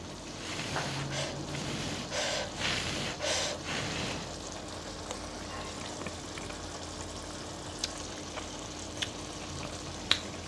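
Prawns roast in ghee in a pan with a steady soft sizzle and frying crackle throughout, with occasional stirring scrapes early on and faint pops later.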